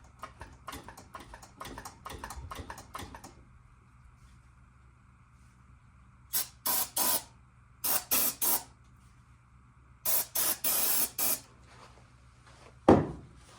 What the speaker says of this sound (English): Let's try a small shot. I don't like using too much of this ether.